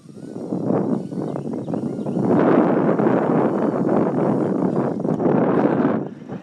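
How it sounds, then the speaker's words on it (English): Strong wind buffets an outdoor microphone while a Cheerson CX-10 mini quadcopter is flown, giving a loud, steady rumbling roar that builds and holds for several seconds. "That's pretty strong wind though."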